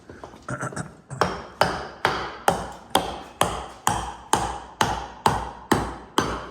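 A mallet built from scrap wood strikes an anvil in a steady series of about a dozen loud, sharp knocks, evenly paced roughly every half second after a few quicker light taps at the start.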